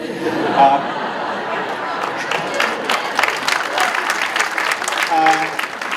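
Audience applause at a conference panel, a steady wash of clapping with some chatter and light laughter from the crowd throughout.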